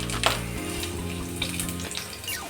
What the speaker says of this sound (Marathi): आपलं तेल छान गरम झालेलं आहे. आपण त्यात थोडं लसूण घालणार आहोत.